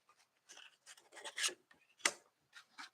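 A tarot deck is cut and fanned up close, making soft, papery swishes and scrapes in short, separate bursts, faint against near silence.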